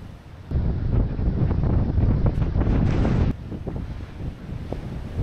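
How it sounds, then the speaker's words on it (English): Strong northeasterly gusts around 57 mph whipping a rough sea, a loud roaring buffet of wind on the microphone with surf noise underneath, surging harder in the middle then easing slightly, no talking. "We've got a 57 mile an hour northeasterly gust and it's whipping the ocean up a good one."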